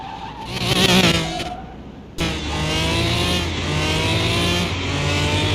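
A car in Car Mechanic Simulator accelerates hard, its loud engine revving and climbing steadily through the gears after a brief pause, close and continuous with no talking over it.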